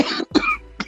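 Two or three short, harsh coughs in quick succession, close and fairly loud, with no talking.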